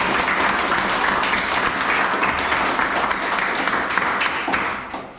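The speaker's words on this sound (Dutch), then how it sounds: "Applaus voor je kant." Dense, loud applause and clapping from the crowd after a youth football match between Kbeyoung Voetbal Academie and DVS'33 Ermelo, sustained for several seconds before tapering off near the end.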